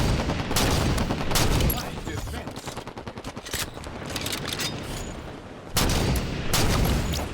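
Gunfire in a Halo 5 capture-the-flag match builds into dense, continuous bursts with several heavy, loud shots, including a sniper rifle headshot, and a faint voice underneath.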